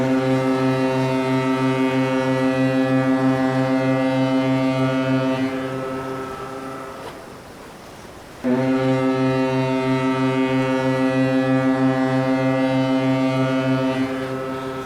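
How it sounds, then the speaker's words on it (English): A deep, loud foghorn blares in long sustained blasts, cutting off briefly to wind noise before sounding again, in a radio drama. "I can't hear anything except the foghorn."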